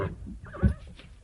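A horse gives a short, faint whinny with a brief snort in a drama scene of riders on horseback, quiet and somewhat muffled.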